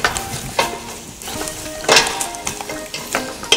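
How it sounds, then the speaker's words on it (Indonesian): Stock stirred in a frying pan as it sizzles, with a spoon scraping and tapping the pan in irregular strokes over a steady fry, close and fairly loud, no talking. "kita aduk sebentar"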